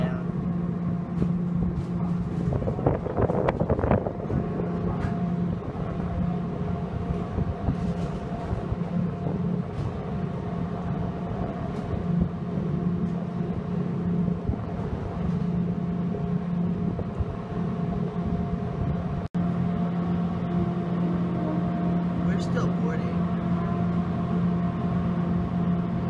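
The Cross Sound ferry New London's engine drones low and steady with a deep rumbling hum as it slows down to dock, continuous and fairly close, with faint mechanical rattles and no talking.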